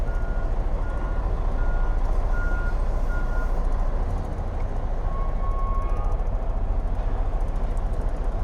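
A truck backing into a loading dock door sounds a reversing alarm, repeated evenly spaced beeps over a loud, constant diesel engine rumble.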